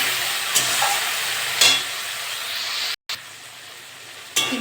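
Prawns fry in a pan with onions in a loud, steady sizzle and hiss, broken by a few sharp scrapes and stirs and a brief dropout, close up with no voices.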